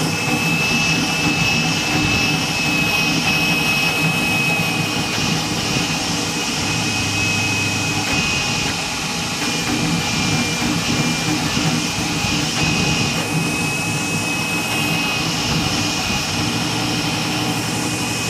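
A Goliath 3D printer fitted with a VZhextrudort extruder runs at high speed, about 350 mm per second with very high acceleration, giving a continuous loud whirring hum with a thin steady whine throughout.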